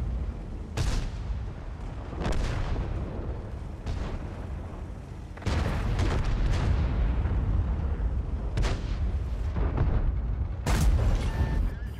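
Tank cannon shots from a 50TP in World of Tanks on the El Halluf map: several heavy booms spaced a few seconds apart, each a sharp blast trailing into a rumble, loud over continuous engine noise.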